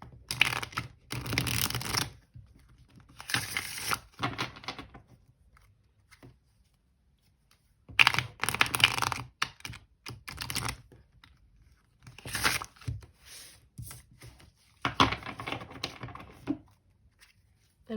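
Bursts of crisp, papery riffling and tapping come in short flurries separated by brief pauses, close and fairly loud, with no voices.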